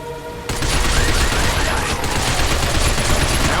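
Heavy automatic gunfire shooting at robots in the video game Binary Domain, a dense continuous barrage of loud close shots that starts abruptly and rattles on without letup.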